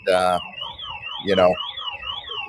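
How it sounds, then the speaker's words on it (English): Car alarms going off after a strike, a wavering warbling siren tone sounding steadily in the distance beneath two loud bursts of nearby speech. "you can hear the car alarms going off over by them."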